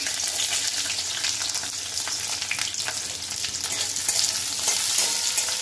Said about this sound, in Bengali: তেল গরম আছে, আমি ক্যাপসিকামটা দিয়ে দেবো প্রথমে